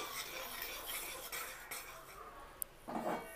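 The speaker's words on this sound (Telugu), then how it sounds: "ఇప్పుడు మళ్ళీ తిప్పుతూ ఉండండి" A spoon scrapes and clinks against a pan while sugar syrup for sesame laddu is stirred, soft repeated stirring strokes with a sharp metallic tap near the end.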